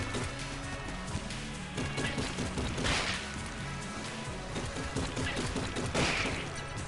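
Gunfire in the Enter the Gungeon video game, including a cheese gun: dense, continuous volleys of rapid shots with periodic brighter crashes, steady and moderately loud throughout.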